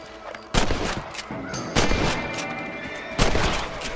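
Loud rifle shots fired at rabbits on a ranch in Red Dead Redemption, several sharp cracks spaced about a second apart over a busy background of game ambience.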